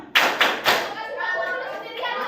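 Children in a classroom clap their hands along to the Indonesian sing-along song about clapping when happy, three sharp claps at the start followed by singing voices carrying the tune.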